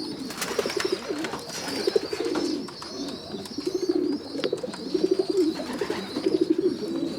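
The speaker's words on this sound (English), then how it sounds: "I think I've got most of my birds home now." Racing pigeons coo repeatedly in soft, rhythmic bursts close by, several birds overlapping with a faint background murmur and occasional higher chirps.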